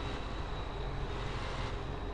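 A tractor engine in Farming Simulator 15, a constant low droning hum with a steady whine above it, evenly loud and without talk.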